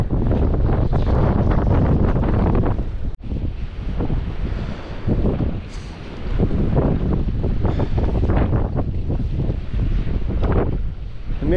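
Strong wind roars and buffets the microphone continuously on a blustery New Year's Day fishing outing by the water, loud and unbroken with a brief dropout near the start.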